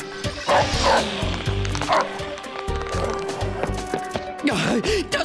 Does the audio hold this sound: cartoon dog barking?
yes